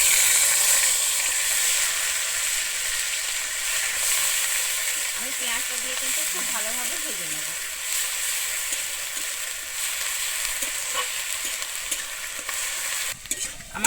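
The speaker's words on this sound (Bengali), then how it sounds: "পেঁয়াজটা কিন্তু এখানে খুব সুন্দর ভাজা হয়ে গেছে" Ground onion paste fries in a pan with a steady broad sizzle throughout, broken by occasional stirring scrapes partway through; close and continuous with no talking.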